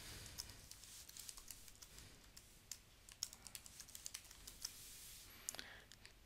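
A password being typed on a computer keyboard during a software setup: quiet, irregular key clicks in quick runs, close and alone.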